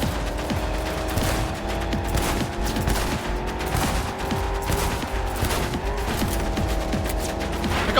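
Rapid bursts of gunfire from the video game Cyberpunk 2077, loud and continuous, with dense repeated shots and mechanical clatter layered over a steady low rumble throughout.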